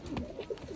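Pigeons at a breeder's loft coo in low, rolling bursts close by, two or three soft throaty calls in quick succession.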